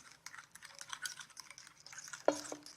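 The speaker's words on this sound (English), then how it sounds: "make sure that you mix it so that it can start to get creamy" A creamy vegetable mixture being mixed by hand, with soft, quiet stirring and light scraping in a kitchen, plus a sharper clink of utensil against the bowl near the end.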